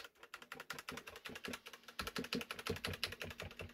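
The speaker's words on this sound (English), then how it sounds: "Okay, I'm pressing delete." Rapid, uneven clacking of keys on a USB keyboard attached to an old computer, typed or pressed in quick succession, fairly close and steady with no talking.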